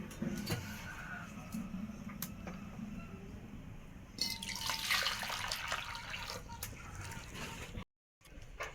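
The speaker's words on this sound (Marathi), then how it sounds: "आता पाणी आपण काढून घेणार आहे खाली टोपामध्ये" Water is drained from fresh river fish and runs splashing into a pot below, the flow growing louder midway, with faint background murmur and a brief cut near the end.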